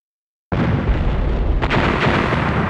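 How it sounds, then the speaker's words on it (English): An explosion in the horror game Hellnight bursts in suddenly after a moment of silence and becomes a loud, sustained roaring rumble, with a brief crack partway through. "It sounded like an explosion."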